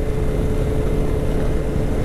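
Motorcycle riding with wind buffeting, a loud, steady low rumble and roar of engine and rushing air, close and unbroken.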